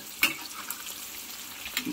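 Crackling, sputtering hiss of egg tofu frying in hot oil, with a few sharper pops standing out over the steady sizzle.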